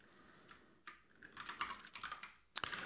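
A computer keyboard is typed on while coding an F# project, a quiet then busier run of soft, uneven keystrokes close by, with one sharper tap near the end.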